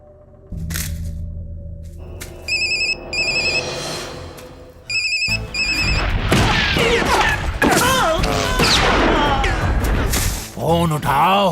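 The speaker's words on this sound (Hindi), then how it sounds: "भाई रिंग बज रही, वो उठा नहीं रहा है।" A phone ringtone chirps in several quick melodic bursts during a Hindi-dubbed action film scene, then gives way to loud crashing, thudding impacts and a dense, chaotic action soundtrack.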